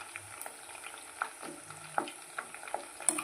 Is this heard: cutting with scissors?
no